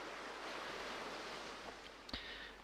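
Waves on a beach in the video game Honkai Impact 3rd wash in as a soft, steady surf hiss, with a faint knock near the end.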